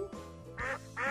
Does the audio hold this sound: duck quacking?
yes